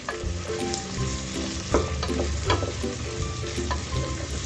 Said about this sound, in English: And now we will give it a good stir, and we will fry the eggplant.